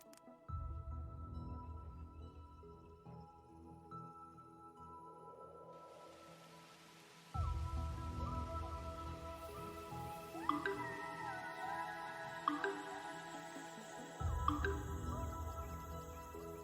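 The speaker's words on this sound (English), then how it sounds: "There's already a rain cloud right over the reservoir." Rain falls from a rain cloud over a reservoir in The Universim, a soft steady patter with drips layered under ambient game music that swells in and out, with no talk.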